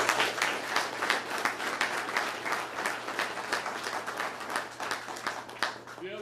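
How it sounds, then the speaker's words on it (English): Dense, sustained audience applause fills a military award ceremony hall, a steady roar of many hands clapping close and loud for about six seconds with no talking over it. "So give yourselves a round of applause."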